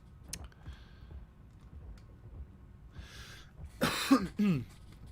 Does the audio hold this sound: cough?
yes